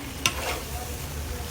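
Ginger and garlic sizzle in hot oil in a large wok being readied to cook about 25 kilograms, a steady close frying hiss with one brief scrape or clatter near the start.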